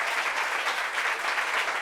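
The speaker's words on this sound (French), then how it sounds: "applaudissements pour le soutenir" Brief burst of dense, even applause from a talk show studio audience, loud and continuous from start to finish with no other sounds standing out.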